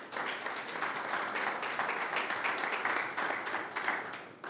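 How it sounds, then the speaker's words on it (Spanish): An audience applauds a poet being introduced at a university poetry reading session, a steady, fairly faint wash of clapping from a room full of people, continuing without a break. "Si me ayudan con un aplauso, por favor."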